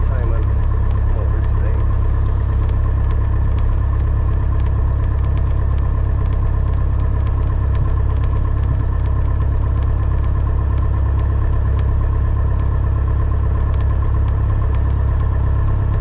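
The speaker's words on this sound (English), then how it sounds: "We're going to try and put at least an hour to an hour and a half of time on this motor today" A Cherokee 180 airplane's new engine runs steadily through its break-in, a loud continuous drone that holds an even level for the whole stretch with no pauses.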